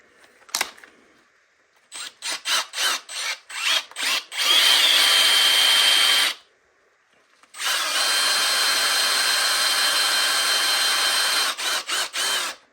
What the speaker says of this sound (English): so that we can drill the hole in here